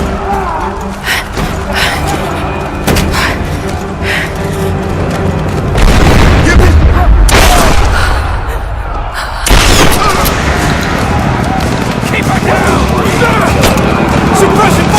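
Gunfire and explosions in the Rise of the Tomb Raider video game, with loud booms and bursts of shots in an action scene around a village, heavy blasts around the middle, under game music and ambience.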